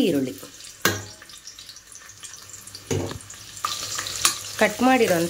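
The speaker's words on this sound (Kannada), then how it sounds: "ಸೊ ಅಲ್ಲಿವರೆಗೂ ಫಸ್ಟ್ ಚೆನ್ನಾಗಿ ಫ್ರೈ ಮಾಡ್ಕೊಳ್ಳಿ" Chopped onions fry in hot oil while being stirred for a dhaba-style tomato bath, giving a low sizzle broken by sharp spoon clanks, with watery splashing and brief voice sounds near the end.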